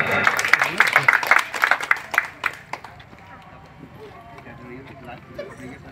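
Audience clapping to welcome a performer at a school dance competition, loud and dense for the first couple of seconds, then thinning out and fading into quieter room noise.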